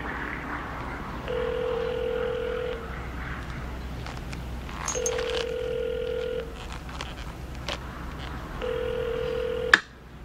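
A telephone number is dialed in a 1980s thriller film scene, heard as three clear groups of keypad tones separated by pauses over a low hum, ending with a sharp click.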